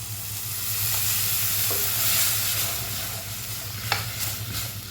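Steady, close sizzling of roasted coconut paste in a pan for fish curry, with a few soft scrapes and stirring clicks, continuous and fairly loud throughout with a low hum beneath.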